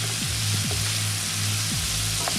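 Lamb pieces sizzle steadily in a hot pan while searing for a curry lamb stew, a constant close frying hiss with a few faint scraping stirs.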